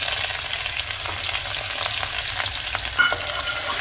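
Crushed garlic and green chillies fry in hot oil for a methi aloo dish, giving a steady, close sizzle with a brief louder spurt near the end and no talking.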